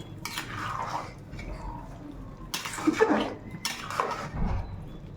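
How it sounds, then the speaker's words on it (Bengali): Jackfruit for a vegetarian biryani is stirred in a metal pot, a spoon scraping and clinking against the sides in a few bursts at moderate volume, with quiet gaps and faint kitchen background between strokes. "কাঁঠালটা এখন এটার মধ্যে দিয়ে দিচ্ছি। ভালো মতো নেড়ে দিচ্ছি।"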